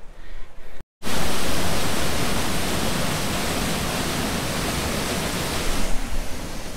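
A waterfall pours into a canyon in Zion, Bryce Canyon or Red Canyon. After a brief cut, a loud, constant roar of rushing water sets in nearby and holds steady, easing slightly near the end, with no voices.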